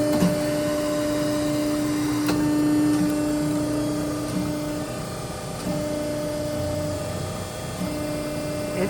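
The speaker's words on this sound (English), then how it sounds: "75-ton Pacific hydraulic Pressformer. Adjustable stroke." A 75-ton Pacific hydraulic Pressformer press runs with a steady mechanical hum and drone, a sustained tonal whine holding through most of the stretch, punctuated by faint clicks.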